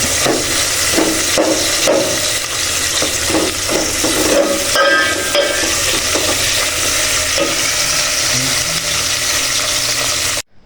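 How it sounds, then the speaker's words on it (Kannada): Onions roast in a pan for vegetable sambar with a loud, continuous close-up sizzle and hiss, broken by repeated scraping stirs, then stop abruptly at the end. "ಇನ್ನು ತರಕಾರಿ ಸಾಂಬಾರು ಮಾಡ್ತಾ ಇದ್ದೀವಿ ಈರುಳ್ಳಿ ಚೆನ್ನಾಗಿ ರೋಸ್ಟ್ ಆದಮೇಲೆ"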